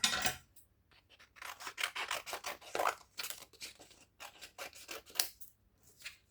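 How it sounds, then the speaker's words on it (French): Scissors cutting out paper shapes up close, a series of crisp snipping and rustling strokes in irregular bursts with short pauses between them. "Bon, allez, je les découpe à la forme."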